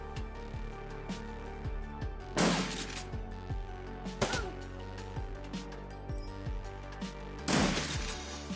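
Video game shotgun blasts in Shadowrun: Dragonfall, three distinct booming shots spaced a couple of seconds apart over a steady game soundtrack, fairly quiet overall.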